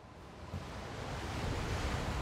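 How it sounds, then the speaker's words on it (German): Ocean waves crash and surge at sea in the video game Still Wakes the Deep, a continuous loud roar of surf with wind, no voices. "Und die Wellen schlagen hoch."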